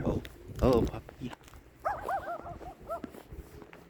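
A puppy in the snow gives a few short yips and barks followed by a series of high whimpers, close by, with a person talking over the start.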